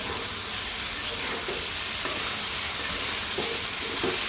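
Okra frying in a pan gives a loud, steady sizzling hiss, with faint soft stirring scrapes now and then.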